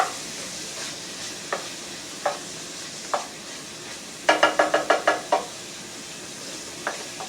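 Peppers and onions sautéing in a pan for meatloaf: a soft sizzle under sporadic utensil taps, then a quick burst of clattering stirs before the taps thin out again.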